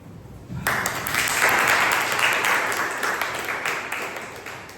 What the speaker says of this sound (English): please give an round of applause for Toastmaster Sumit